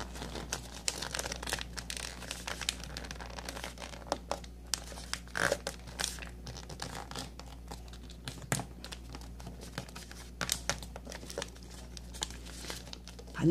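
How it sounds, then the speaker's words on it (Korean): Origami paper is folded and creased for a standing box, a steady run of soft crinkles, rustles and pressing taps, close and continuous with no voice. "돌려서 밑에 직사각형을 반을 접어주세요."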